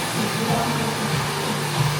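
A hair dryer blow-dries hair at a salon, a constant loud whooshing hum holding steady for the whole short stretch without any talking.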